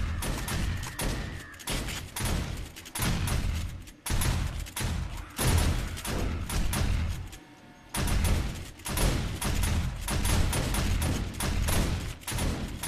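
Rapid bursts of gunfire from the zombie survival game 7 Days to Die during a horde attack on a base, loud repeated shots in clusters with short gaps, no talking over it.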